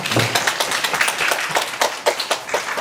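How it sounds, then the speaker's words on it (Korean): An audience at a talk concert on integrated medical and care services claps to welcome a speaker to the stage, a loose, uneven patter of individual hand claps that stays fairly close and moderate in volume. "우리 회장님, 큰 박수로 맞아주시고"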